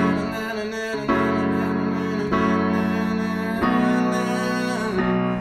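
Piano plays the bridge of a song, sustained chords shifting back and forth every second or so, warm and resonant, close and alone without any voice.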